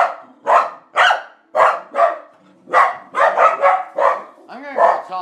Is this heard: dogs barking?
yes